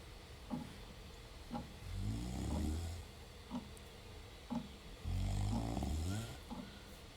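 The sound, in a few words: character snoring in video game Jenny LeClue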